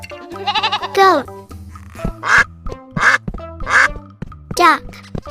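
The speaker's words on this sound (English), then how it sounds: "duck" A cartoon duck quacks repeatedly in a children's animal song, several bright, evenly spaced quacks over a bouncy musical backing, with bleating goat-like calls mixed in.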